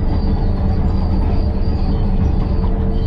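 Caterpillar D6N crawler tractor working a dry trail of loose gravel, a steady loud mechanical rumble with a constant engine drone and track clatter running throughout, no voices.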